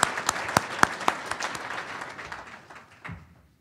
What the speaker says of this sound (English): Let's give them a round of applause for all their work.